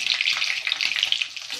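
Eggs frying in a pan give a steady, close sizzle with crackling pops that runs the whole time, with no talk over it.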